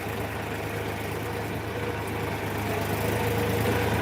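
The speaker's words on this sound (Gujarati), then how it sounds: "ટ્રેક્ટર ચાલુ છે રફ રસ્તો છે" A tractor engine runs steadily on a rough road, a loud, close, continuous low rumble with a constant hum and no break across the stretch, and no voices over it.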